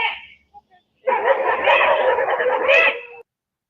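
A dog in a news clip gives a short burst of barking and yelping, loud and close, lasting about two seconds after a brief faint yip.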